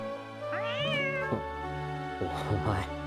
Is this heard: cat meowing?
yes